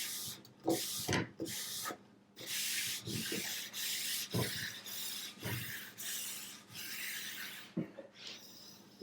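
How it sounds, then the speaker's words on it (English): Quick, rough scraping strokes from a brush sweeping wax shavings off a snowboard base, a rapid run of close, rasping passes with short gaps between them. "push all the wax dandruff off the board"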